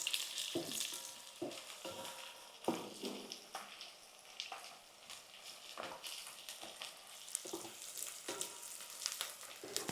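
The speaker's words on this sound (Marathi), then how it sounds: "आता आपल्याला गॅस थोडा वाढवायचा आहे आणि हा कांदा थोडा नरम करून घ्यायचा आहे." Chopped onion fries in a pan over raised heat, a soft continuous sizzle broken by stirring scrapes and clinks at irregular intervals, faint and close with no voices.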